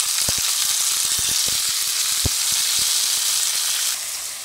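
Garlic and cherry tomatoes sizzle loudly in a frying pan, a steady close hiss of hot oil broken by scattered sharp pops, easing slightly in volume toward the end, with no voices.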